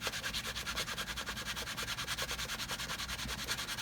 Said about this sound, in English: All we're wanting to do is just heat that wax up and get it where it burnishes into the side of the leather.